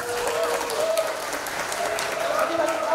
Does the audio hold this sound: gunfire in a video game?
no